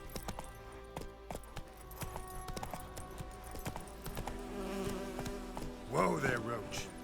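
Roach the horse trots along in The Witcher 3, hooves clip-clopping in an irregular rhythm beneath insect buzzing and ambient game sound, with a brief tonal swell near the end.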